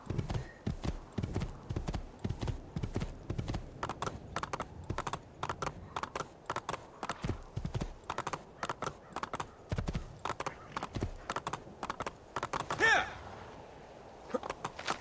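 Horse hooves clip-clop steadily in the Assassin's Creed II video game, a continuous rhythmic trot of close, crisp hoof strikes running through nearly the whole stretch alone, with a brief brighter sound near the end.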